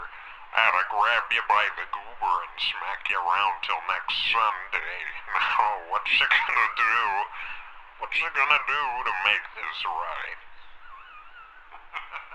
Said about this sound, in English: So the effect that he was using was a flange.